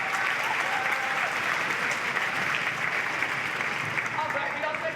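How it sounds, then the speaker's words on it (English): Audience at a sixth-grade school band winter concert giving a steady, dense round of applause that holds evenly throughout, with some voices mixed into the clapping. "Can we just give Caleb a quick round of applause?"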